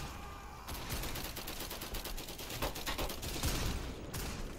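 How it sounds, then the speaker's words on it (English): Machine gun fire in the Roblox war game Centaura: a dense, continuous rattle of rapid shots that stays loud and close across the whole stretch, with a scattered battlefield volley layered underneath. "Oh, we got another machine gun."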